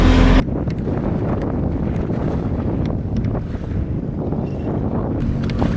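Wind and choppy waves on Lake Winnebago batter a FishPro Scout fishing boat: continuous close rumbling wash and buffeting wind noise on the microphone, loud throughout with no talking.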